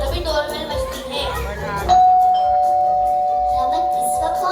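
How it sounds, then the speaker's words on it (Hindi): A doorbell rings once in a school drama about a UPI scam, a sudden bright electronic tone that holds steadily for several seconds after a stretch of muffled background noise and murmuring. "तभी डोरबेल बजती है।"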